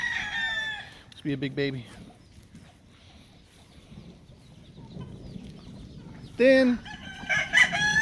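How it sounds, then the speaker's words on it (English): A backyard rooster crows twice, clear and fairly close, with a person talking between the calls in a rainy farmyard setting. "That's a good looking rooster"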